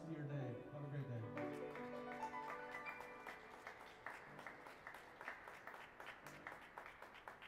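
Audience applause in an atrium for a music performance, rising out of the last ringing notes into dense, steady clapping that carries on to the end.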